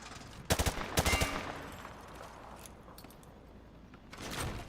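Gunfire on a Halo video game firing range: two quick volleys of sharp, loud shots close together near the start, then a quieter stretch and another louder burst at the end.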